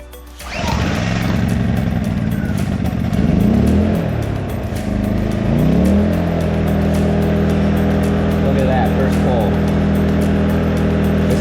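A Wen 56203i 2000-watt inverter generator cranks and catches near the start, then settles into a steady, even engine hum with a brief rise in revs before holding a constant idle to the end.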